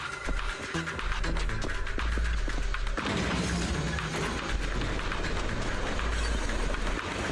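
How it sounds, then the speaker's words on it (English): Trains moving in the Zenless Zone Zero video game: a loud, dense rumble of rolling rail cars with clattering thumps, growing steadier and fuller partway through, with no voices. "Just casually moving the trains in the area"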